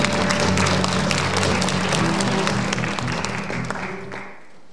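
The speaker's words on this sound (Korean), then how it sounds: "큰 박수로 환영해 주시기 바랍니다." A seated audience at the opening ceremony of the 2022 Nogeun-ri International Peace Forum applauds a board chairman coming to the stage. Steady crowd clapping runs over sustained background music, then fades out near the end.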